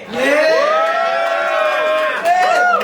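Crowd at a rap battle in a Quezon City bar whoops and cheers loudly and continuously for nearly three seconds, with a brief dip before rising again.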